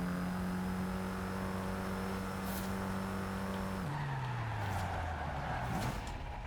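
A racing car drifts across the finish line in a racing video game, its sustained engine tone dropping in pitch as tires hiss and skid, steady and close without talk.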